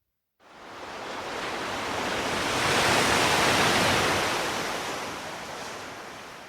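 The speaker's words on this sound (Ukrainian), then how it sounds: "шум водички, моря, хвилі" Sea waves wash in a broad rushing surge that swells gradually to a peak and slowly eases off, steady and fairly loud, with no talk.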